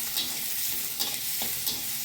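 Chopped onion and garlic frying in a small amount of oil, a steady close hiss of sizzling with a few soft stirring scrapes, no talk.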